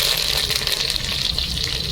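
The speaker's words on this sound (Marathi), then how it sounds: "थोडं जिरं तडतडलं आहे, लसूण लाल झाले" Cumin seeds and garlic sizzle in hot oil for a spinach dal tempering, curry leaves added: a continuous close, bright hiss of frying with fine crackles and pops.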